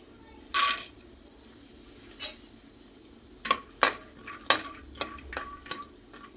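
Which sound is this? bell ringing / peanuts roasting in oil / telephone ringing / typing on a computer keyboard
peanuts roasting in oil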